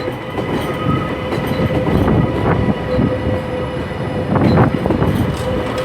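A ScotRail Class 397 electric train rolls in to terminate at Glasgow Central, a loud steady rumble of wheels and carriages with faint squeals and clatter, close by in a large station, no voices.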